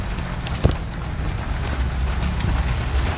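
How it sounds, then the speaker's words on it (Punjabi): Heavy rain falls on the Chandigarh road in Nawanshahr as a dense, steady, loud hiss with one sharp knock early on. "بارش ਕਾਫੀ ਤੇਜ਼ ਹੈ"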